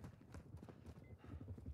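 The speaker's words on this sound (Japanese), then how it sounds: "めっちゃ足音する。" Rapid footsteps in the DMZ shooter game, a quick, busy run of close, thudding steps over a low background.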